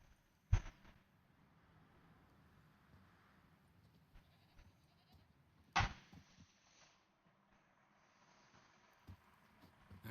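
A goat tied to a stake bleats in The Witcher 3, two sharp loud cries several seconds apart over a quiet outdoor ambience, with a faint snort or shuffle near the end.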